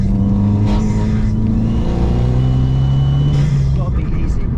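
A small hot hatch, an Alfa Mito Cloverleaf or Abarth 500, pulls hard under acceleration from inside the cabin, its engine note rising steadily and loud, with people talking over it.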